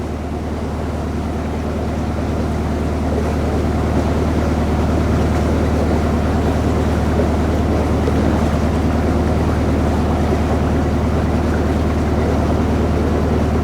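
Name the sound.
narrowboat engine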